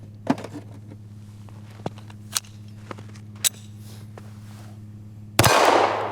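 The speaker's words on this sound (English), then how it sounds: "I'm gonna stop shooting steel." Glock V pistol fired at steel targets: a handful of sharp, separate reports spaced about a second apart, ending in a louder, sustained burst of noise, with a constant low hum underneath and no talking.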